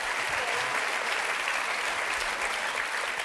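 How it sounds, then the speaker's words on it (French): Studio audience at a TV game show applauding, a steady wash of many hands clapping at even loudness for a few seconds, with no voices over it. "On peut quand même applaudir Sébastien"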